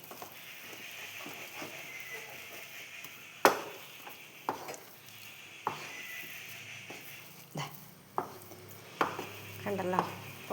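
Jackfruit seed halwa being stirred in a pan, with faint continuous scraping and soft sizzle broken by occasional sharper knocks of the spoon against the pan, quiet and close.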